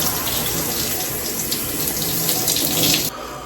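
A water tap runs steadily and loud while hair is being washed out, a continuous close splashing stream that cuts off sharply near the end.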